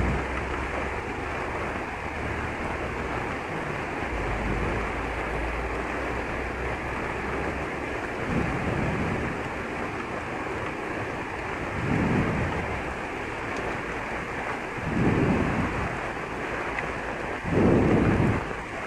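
The flooded Cuero River surges during Hurricane Eta, a dense, continuous roar of rushing water that swells in a few louder pulses over roughly nineteen seconds, heard alone without voices.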